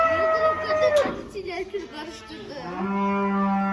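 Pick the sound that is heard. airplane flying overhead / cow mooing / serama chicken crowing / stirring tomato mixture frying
cow mooing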